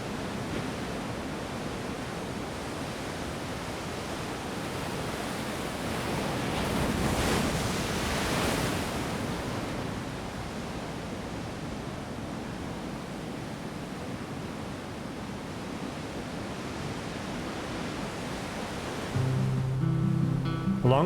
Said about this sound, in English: listening to waves gently crash against the rocky shore